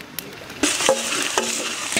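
Ginger paste hits browned onions in a hot pan with a sudden loud sizzle, followed by steady frying hiss and scraping stirs, close up and without voices.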